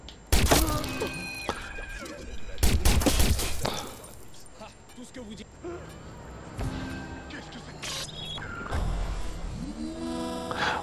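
Weapon fire in the PS4 game Watch Dogs: loud, sharp bursts of gunshots and impacts at intervals, mixed with other game sounds and voices.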